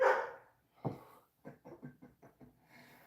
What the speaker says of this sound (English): My dog's gonna start barking.